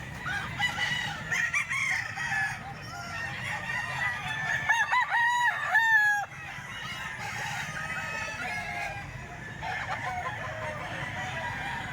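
A ten-month-old Boston Sweater gamefowl rooster crows loudly and close by, with drawn-out calls amid clucking and other fowl sounds in a farmyard.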